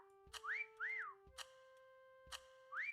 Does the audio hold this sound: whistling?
yes